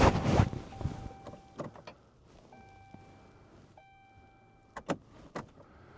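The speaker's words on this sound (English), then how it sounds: "Let that poor little lift pump just lift all that fuel up here." A Cummins truck's electric fuel lift pump primes as the key is cycled, giving faint steady whirring hums that start and stop between soft clicks and thumps inside the cab.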